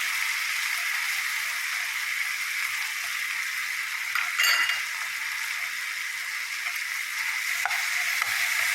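Chicken curry with jackfruit seeds and sautéed onions fries in a pan, giving a constant close sizzle with brief scraping stirs partway through and no speech.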